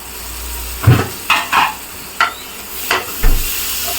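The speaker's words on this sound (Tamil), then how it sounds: "கொஞ்சம் பொறுமையாக கிளறுங்க, இது பண்ணுங்க, வதக்குங்க" Tomato is stirred and sautéed into a ginger-garlic gravy for fried pounded mutton, with close spoon scrapes and clacks against the pan repeating several times over a low, steady sizzle.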